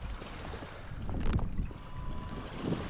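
Wind gusting over a sailing boat at sea on a light eight-knot breeze, a steady rushing blow with buffeting on the microphone and faint water movement around the hull, no talking.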